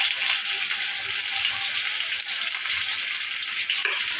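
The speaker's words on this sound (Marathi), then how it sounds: "तेल तापायला घेतले, त्यात कांदे परतायला टाकून देऊया" Chopped onions fry with a steady, dense sizzle in hot oil for a spicy chicken curry, loud and close with no talking.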